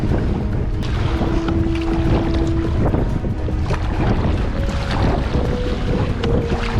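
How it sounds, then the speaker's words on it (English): Rough sea off the Scottish east coast slaps and breaks against a kayak, a constant loud wash of water and roaring wind buffeting the microphone close up, with no voices. "This wave's going to break on us."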